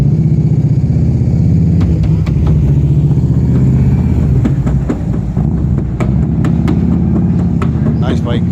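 A motorbike engine passes nearby, a loud, sustained mid-pitched roar rising and falling, with tapping and hammering from panel installation work and people talking over it.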